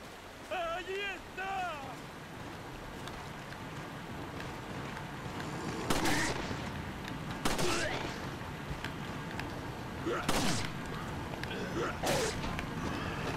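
Gunshots ring out in Resident Evil 4, a few separate sharp cracks spaced several seconds apart over ambient game noise, with a voice talking early on.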